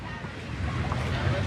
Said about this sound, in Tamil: அருமையாக காற்று வீசிகிட்ருக்கு இந்த இடத்துல